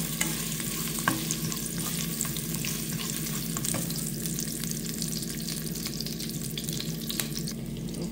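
Ginger sautés in a pan as the first step of a chicken soup with carrots and celery, giving a soft, steady sizzle with occasional stirring clicks, close but fairly quiet.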